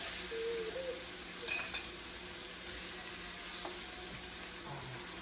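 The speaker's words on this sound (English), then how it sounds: "Nice little sizzle. Not too much." A quiet, steady sizzle of pork chops frying in a large pan, with faint clinks of utensils and cookware over a continuous low background.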